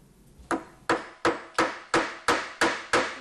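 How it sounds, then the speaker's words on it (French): Eight sharp hammer blows ring out at a steady, roughly evenly spaced rhythm on a construction site, each a loud close impact with a short decaying tail, and no voices. "Dernier coup de marteau,"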